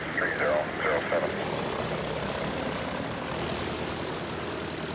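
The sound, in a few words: single-engine propeller planes arriving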